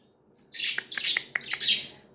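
Pet budgies chirp in a quick run of bright, high tweets and short calls, close and fairly loud, with no talking over them.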